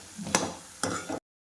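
Washed drumstick pods are stirred into sizzling masala in a pan, giving two short scraping, clattering bursts over a soft frying sizzle, close by.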